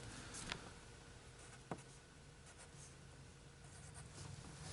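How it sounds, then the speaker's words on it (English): A pen scratches notes on paper at a tabletop game session in soft, quiet strokes, with a couple of small taps standing out over low background noise and no speech. "I usually write those alongside"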